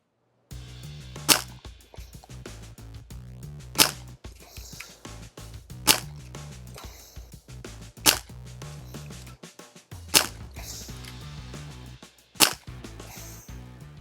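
A Dan Wesson 715 6-inch airgun revolver with a Walther sight is fired for accuracy: six sharp, snappy shots spaced a couple of seconds apart, each standing out clearly over background music.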